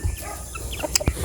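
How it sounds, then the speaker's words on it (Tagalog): Farm chickens cluck in short, scattered calls over low outdoor background noise, with a few sharper squawks close by near the end. "Tingnan natin kung mga manok."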